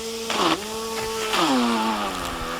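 A cordless Zip Trim battery string trimmer runs close by, its motor whine dipping and recovering twice as the speed drops under load, a condition where it only keeps revs while idling.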